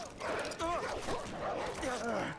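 Dogs barking and yipping in the video game Far Cry 4: several short excited barks and whimpers close by, with a person speaking over them.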